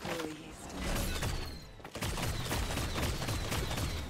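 Gunfire in the video game Paladins during a ranked match: rapid, overlapping bursts of shots and thuds in a continuous barrage, moderately loud with a brief lull partway through.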